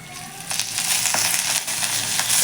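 Green chilies fry in a little oil for a rustic chili thecha, a close, steady sizzle broken by scraping and stirring noises from the pan.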